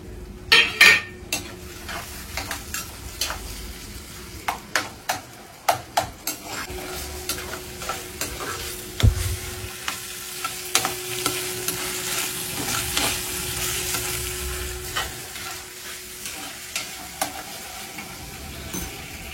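Onion and tomato sautéing in a pan for a dried-anchovy (nethili karuvadu) kuzhambu, a low sizzle under repeated clinking and scraping strokes of a spoon stirring against metal, busier at first and then more spaced out.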